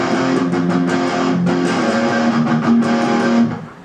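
Second guitar alone playing the verse part of a song, a steady run of sustained chords with rhythmic strums, loud and close, no voices, fading out at the end.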